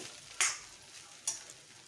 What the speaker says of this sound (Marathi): चवीनुसार मीठ टाकायचे आणि परत 2 मिनटं छान परतून घ्यायची.